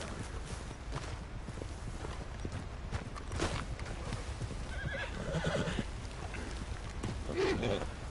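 Video game horse hooves clip-clop steadily at a walking pace, with a horse whinnying and snorting now and then, fairly close.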